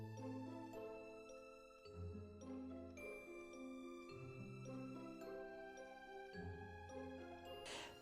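Small bells jingle and chime in overlapping, ringing tones, with clusters of fresh strikes every couple of seconds and long sustained decays.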